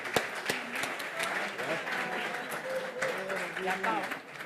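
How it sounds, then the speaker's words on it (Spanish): Clapping from an audience at the closing ceremony of an academic seminar, a moderate patter with a few sharp near claps, while voices chatter over it throughout. "Aplauso."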